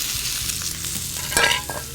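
Seasoned tenderloin chunks fry fast in a hot pan with a dense, steady sizzle, close and loud, and a brief clatter of stirring near the end.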